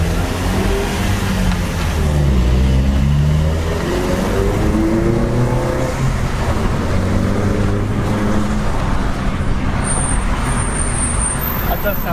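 A Vauxhall Corsa 1.4 Black Edition fitted with a Cobra exhaust drives through a tunnel, its low engine drone and exhaust note booming and reverberating steadily throughout, with people talking over it.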